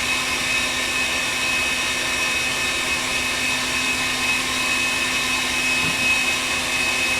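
An electric mixer whips eggs for a flourless chocolate cake, giving a steady, continuous motor whir with a constant pitch that runs unbroken and fairly loud from start to finish, with no talking over it.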